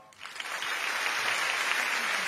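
Audience applause at a stage play staged as a school festival scene from Haikyuu!!, a dense, steady wash of many hands clapping that starts quietly and quickly swells to full strength, holding without any talk.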